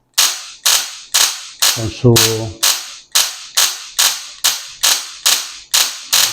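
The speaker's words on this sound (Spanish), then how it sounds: "este ruido desagradable que produce este transformador de alta" Sharp electrical snaps from a high-voltage transformer crack out in a steady rhythm, about two per second, loud and close, with a brief buzzing hum midway.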